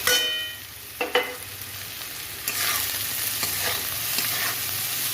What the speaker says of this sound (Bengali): পেঁয়াজ লবণ সুন্দর করে ভাজব দেখুন লাল লাল করে ভাজা হয়ে গেছে এবার আমি মাছগুলো দিয়ে দিচ্ছি